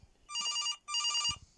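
An old-style telephone bell rings in two bursts inside an animatronic horror video game, each burst a rapid trilling ring lasting about half a second. A low thump follows near the end. No one speaks.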